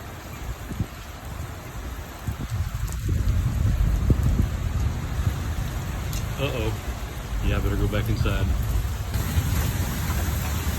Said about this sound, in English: there is the heavy rain and thunder and lightning